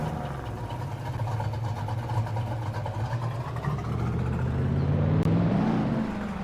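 A Ford Mustang engine in Farming Simulator 22 runs steadily throughout, a low droning hum that swells slightly and rises in pitch near the end as the revs climb, with no voices present.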